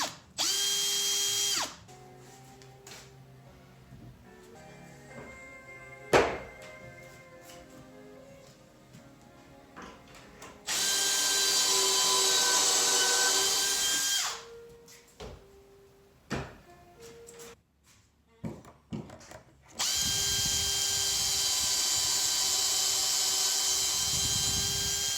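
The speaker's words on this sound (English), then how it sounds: "you're drilling a hole into the side of your plywood" A power drill bores pocket holes into plywood for kitchen cabinets, three long loud whirring runs separated by quieter clicks and handling noises.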